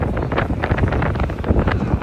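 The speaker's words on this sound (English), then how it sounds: "Oh wow, the wind. Hopefully my mic is picking everything up." Strong outdoor wind buffets the microphone with loud, steady, low rumbling roar throughout, on a trip in Finland near the sea.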